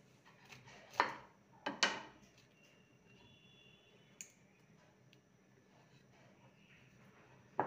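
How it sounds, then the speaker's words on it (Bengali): A knife cuts cauliflower into small pieces, producing a few sharp, isolated chopping knocks with long quiet gaps between them in a hushed kitchen. "এইভাবে ফুলকপিগুলোর টুকরো করে নেব।"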